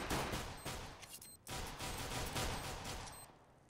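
Rapid gunfire from a CS:GO match, a dense burst of shots that is loud and continuous, with a brief break near the middle.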